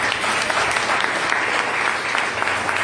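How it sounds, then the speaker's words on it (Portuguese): A church congregation claps steadily and energetically in a short, dense burst of applause filling the hall. "Aplauda você por essa palavra."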